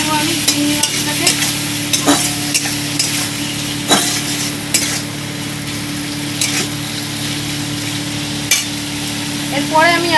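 Lightly scraped prawns frying in hot oil for gandharaj chingri, stirred with a utensil: continuous close sizzle broken by frequent scraping clacks against the pan, loud and busy throughout, no voices.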